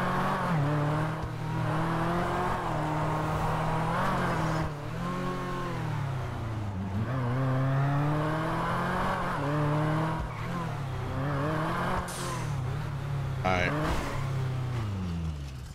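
Loud car driving in the video game GTA V roleplay, engine revving up and down in repeated surges with tire squeals, heard under ongoing talk from players.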